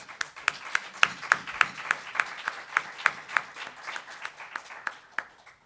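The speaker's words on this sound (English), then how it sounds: "please give a warm round of applause for Robin Ruth Simmons" An audience at a university politics institute panel applauds in a light, fairly sparse round of hand claps that stays even and tapers off toward the end.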